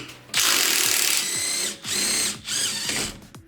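A ratchet with a 19 mm socket loosening a supercar gearbox mount, with three or four bursts of rapid clicking, close and loud, separated by short pauses.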